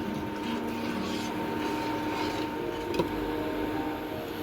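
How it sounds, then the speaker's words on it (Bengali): Water poured into a pan of simmering papad curry, a soft continuous gushing pour with a faint steady hiss throughout and one brief clink near the end. "এবার আরেকটু জল দিয়ে দিলাম আমি"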